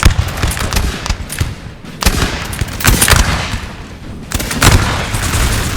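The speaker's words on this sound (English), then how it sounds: "The French volleys are doing, some significant damage to them" French infantry musket volleys in Napoleon Total War: dense, crackling bursts of gunfire in repeated waves, with sharp volleys standing out over a steady battle roar, no voices.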